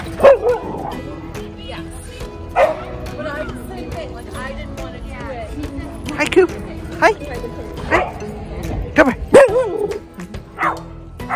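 Dogs bark and yip at a dog park in short, loud bursts spread across the scene, some close and sharp, with a person speaking briefly between them.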